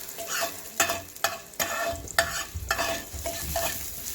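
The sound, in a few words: carrots being lightly fried in oil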